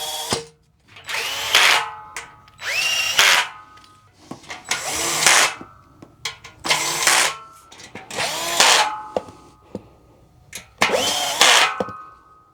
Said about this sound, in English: With the Allen key and drill, start to tighten down all 8.